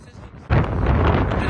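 Strong wind from Hurricane Ian buffets the microphone on an Outer Banks beach in a loud, continuous roar that kicks in abruptly after a brief quieter moment.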